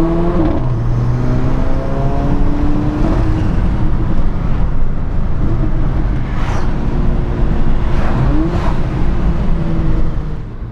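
Mercedes-AMG A45, a four-wheel-drive car with a dual-clutch gearbox, loudly revving with rising and falling engine notes and sharp exhaust pops, heard alone without voices.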